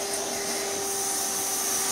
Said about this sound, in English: now I take the vacuum and I vacuum out the inside of this bin completely